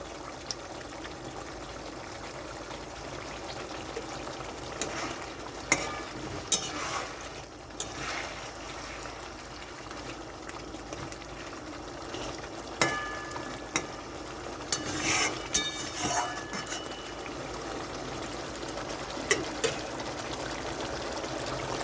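Rohu fish curry in a spicy-sour yogurt gravy bubbles over a raised gas flame, giving a soft continuous simmer broken by scattered louder pops, clinks and stirring bursts.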